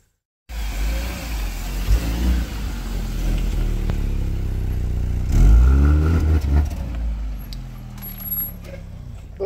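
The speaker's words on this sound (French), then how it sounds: "Bon, je suis occupé à faire l'essai routier de la voiture." A car engine hums steadily from inside the cabin during a road test drive, a low continuous drone that swells briefly as it accelerates, with road and wind noise.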